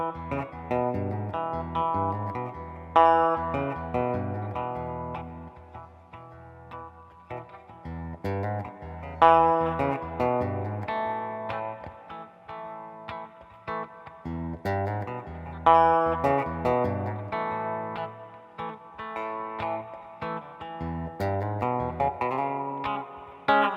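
Electric guitar rhythm part for "Going Down the Road Feeling Bad", with a repeated riff leading into strummed chords in a steady, punchy rhythm. It is played alone, close and clear.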